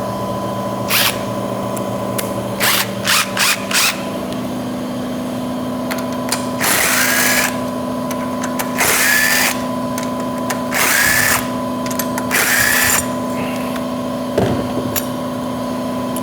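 Power tool spinning out 10 mm valve cover bolts on a Mud Motor engine during a turbo installation, a series of short whirring bursts in close succession, several longer ones in the latter half, loud and close over a steady background hum.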